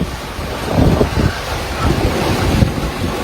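Rough sea on a rocky day, with waves about three metres high and some bigger, surging and crashing in broad washes under heavy wind buffeting the microphone.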